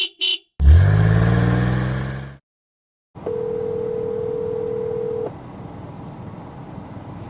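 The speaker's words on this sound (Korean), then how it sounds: "연결이 되지 않아 삐 소리 후 소리샘으로" A steady electronic voicemail beep from an unanswered phone call holds for about two seconds over a low background hum, following a loud, brief harmonic blare and a short silence.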